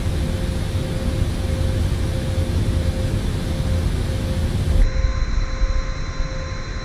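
A simulated Kuro Boeing 787-8 makes a steady, loud cabin roar and hum at the gate in Kuala Lumpur during pushback and engine start. The broadband rumble carries a tonal whine and shifts abruptly to a thinner hum near the end.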